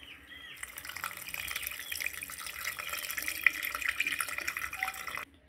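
Water runs steadily from a kitchen tap while a mixer grinder jar is rinsed, a continuous close splashing hiss that cuts off abruptly at the end.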